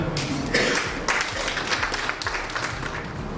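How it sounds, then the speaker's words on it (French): Scattered audience applause at a talk, a small group clapping moderately loud and somewhat thin over a short stretch. "Un peu d'applaudissements."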